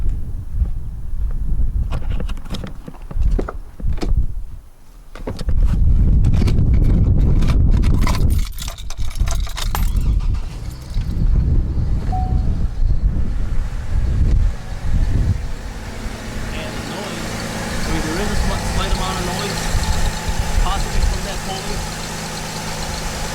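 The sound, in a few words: car engine running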